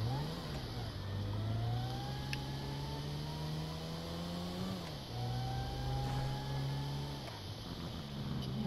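A car driven hard in GTA 5 roleplay, engine revving through rising gear changes with a steady loud drone and brief dips between shifts, no voices.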